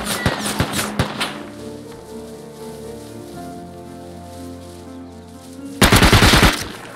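SMG fire in the game Rust comes in rapid, loud bursts at the start and again near the end, with a quieter stretch of ambient noise between.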